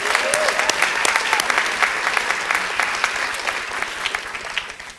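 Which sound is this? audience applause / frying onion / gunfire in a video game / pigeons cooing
audience applause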